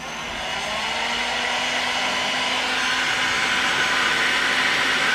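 A heat gun blows a steady, loud, continuous whoosh of hot air across woodgrain delete wrap on Nissan Patrol Y62 interior trim, holding an even drone with a faint hum throughout and no talking.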